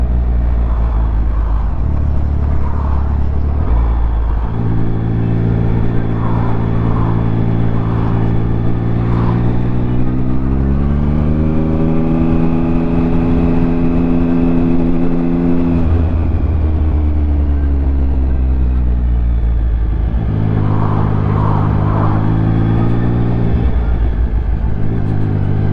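A Triumph Speed Triple 1050 motorcycle ridden through queued traffic, its engine close and loud throughout, with rising and falling revs as the rider accelerates and eases off and the pitch of the engine climbs and drops.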